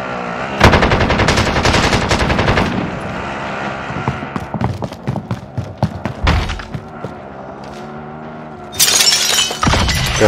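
Rapid automatic DMR rifle fire in the video game Warzone, loud bursts of gunshots with sharp cracks and a glassy shatter-like burst near the end, no talking.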